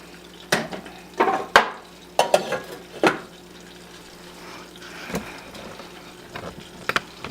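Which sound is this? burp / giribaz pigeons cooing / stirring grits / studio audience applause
stirring grits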